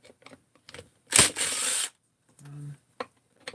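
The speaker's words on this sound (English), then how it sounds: "Pull the AV screws off of here." A screw is backed out of a box of engine parts with a short, loud metallic grinding whirr, followed by a softer rattling scrape and scattered clicks and taps nearby; no talking is heard.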